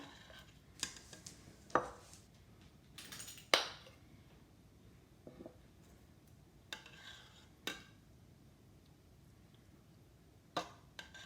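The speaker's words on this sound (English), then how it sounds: "And I'll just put some in a bowl." Chicken and rice soup is ladled from a pot into a bowl, marked by a few scattered metallic clinks and knocks of the ladle against the cookware over a quiet background.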